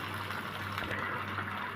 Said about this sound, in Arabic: واحط كده ايه حوالي نص كوبايه ميه كده